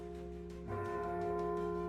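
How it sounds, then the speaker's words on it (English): Great alarm bells clang from a courtyard, a loud, sustained ringing whose tones swell sharply after a brief quieter start and keep sounding without pause. "the frantic, deafening clang of the great alarm bells from the courtyard"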